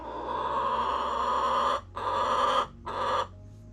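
A hen near a nesting box gives a drawn-out, nasal clucking call, loud and close, broken by two short pauses before it stops.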